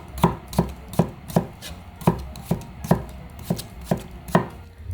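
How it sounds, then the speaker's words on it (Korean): A knife slices a cucumber on a cutting board in a home kitchen, about a dozen crisp, evenly spaced chops ringing out close and clear with no voices. "오이는 뭐 동글동글 썰어도 되고 어슷어슷 썰어도 되고 다 상관없어요."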